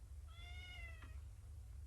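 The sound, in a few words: cat meowing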